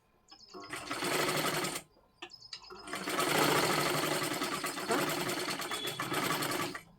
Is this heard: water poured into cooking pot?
no